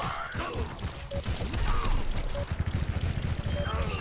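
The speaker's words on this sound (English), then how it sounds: "Took him out with the pistol." Pistol shots in Overwatch, a dense run of sharp cracks and mechanical clatter firing over busy game sounds, with voices talking under the action.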